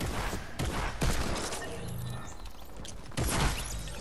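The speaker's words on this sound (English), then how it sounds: "who's shooting me in the back?" Rapid bursts of gunfire in the video game Fortnite, loud and dense, with several sharp volleys and short pauses between them.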